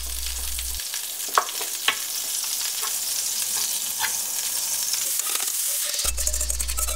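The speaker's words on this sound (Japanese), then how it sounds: "四角いフライパンが出てたから卵焼き風にしてみた。" Beaten egg sizzles and fries steadily in a square pan as a rolled omelette is made, a loud, close, continuous hiss with a few light scrapes of a utensil against the pan.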